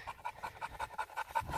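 A tired dog pants rapidly and steadily up close, with quick rhythmic breaths, outdoors during a deer shed hunt.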